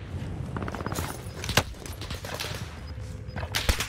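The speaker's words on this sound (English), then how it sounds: "The one on the right is shooting now." Enemy gunfire in a first-person shooter, a sharp close shot and scattered bursts of rapid fire over steady game noise, with another loud crack near the end.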